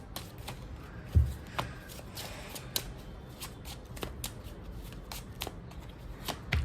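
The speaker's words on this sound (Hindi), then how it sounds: "मैं अभी शफ़ल कर रही हूँ, आप प्लीज़ अपना क्वेश्चन पूछ लीजिए" Tarot cards being shuffled by hand, a rapid run of crisp riffling and slapping card sounds with a few louder taps, close and alone without speech.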